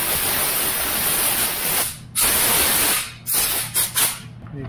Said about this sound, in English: I'm gonna use compressed air.